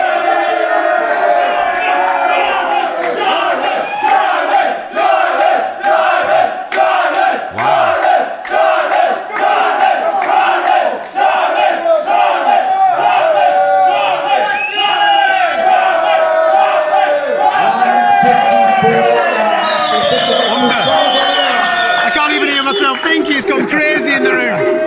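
A large arena crowd at the UFC 280 weigh-in roars, chants and yells in rhythmic bursts, loud and dense throughout, with a commentator's voice occasionally cutting through the din.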